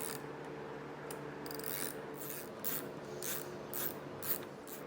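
A bolt is tightened on the detector of a Brunswick A or A2 bowling pinsetter, giving steady ratcheting clicks and metallic rubbing with a few sharper ticks, close by and fairly quiet.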